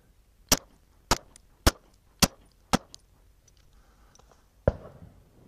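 Five sharp, evenly spaced shots from a handgun firing Hornady Critical Duty 135 grain +P rounds during rifling velocity testing, followed after a pause by a sixth report, loud and close with quiet gaps between.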